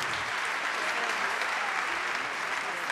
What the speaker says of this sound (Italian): Allora, con l'applauso, voglio il vostro applauso